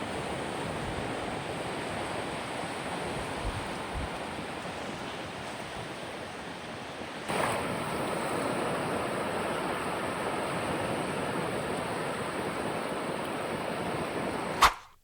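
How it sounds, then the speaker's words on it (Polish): Steady roar of Baltic Sea surf washing onto the beach at Międzyzdroje, Poland, broad and continuous, swelling slightly halfway through, with no voices. "Posłuchajcie tego szumu fal."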